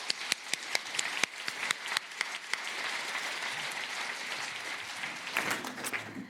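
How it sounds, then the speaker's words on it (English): Audience applause welcoming a panel at the 2019 Nelson Arts Festival, a dense wash of many hands opening with sharp individual claps, then a steady roar that swells again near the end, fairly close and with no voices over it. "Please join me in a round of applause to welcome them."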